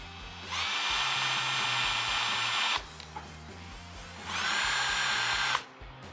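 An electric drill whirs in two steady bursts, each a couple of seconds long with a short pause between, as it stirs Kieselsol fining agent into homemade wine. The drill is loud and close, and no one speaks.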